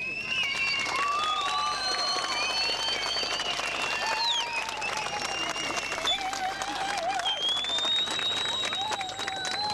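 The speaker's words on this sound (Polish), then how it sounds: "tylko oklaski możemy im podziękować oklaskami" Dense, sustained applause and cheering from an audience fills the hall at an autumn brass orchestra festival in Brodnica, 1996, with whistles and voices scattered through the clapping.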